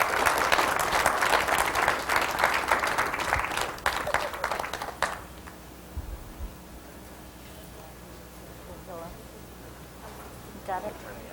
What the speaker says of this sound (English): if you'll give her one more round of applause